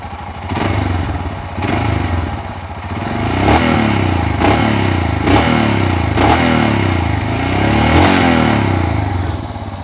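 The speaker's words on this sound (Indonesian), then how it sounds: "Namanya Royal Enfield, pastinya dibekali motornya dengan mesin yang klasik" A Royal Enfield Scram 411 motorcycle with a classic single-cylinder engine revs loudly and close by, with repeated throttle blips and thumping surges over a steady idle rumble across the whole stretch.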